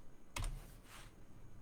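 Someone types briefly on a computer keyboard while leaning over a desk, giving one short, quiet burst of clicks that fades into low room hiss.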